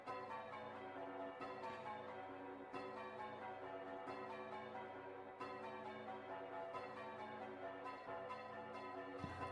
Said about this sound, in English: Why is it making bell noises?